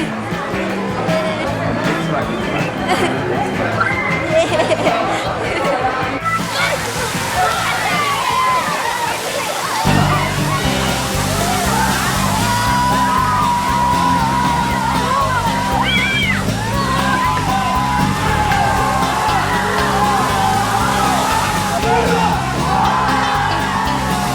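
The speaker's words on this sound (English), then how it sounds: "After exchanging their gifts, the children went to the water park on the premises." Children splash and shout in a water park at a resort in Puerto Rico, with steady rushing and sloshing water filling the scene and voices yelling and whooping throughout.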